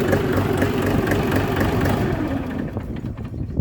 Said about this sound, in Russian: сейчас заглушим двигатель